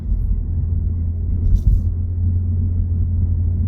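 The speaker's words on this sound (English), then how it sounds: "I hear tire noise, I hear road noise," Steady low rumble of tire and road noise inside a Lexus IS500 cruising on the road, with a muted, even drone and no exhaust note. It fills the whole stretch, with a small bump near the middle and no talking.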